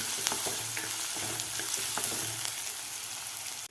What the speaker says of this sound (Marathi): दोन मिनिट आपल्याला कांदा व्यवस्थित परतून घ्यायचा आहे